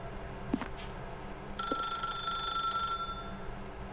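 A telephone rings in the video game The Stanley Parable Ultra Deluxe, a bright electronic ring lasting over a second after a couple of short clicks, heard plainly over a steady game ambience.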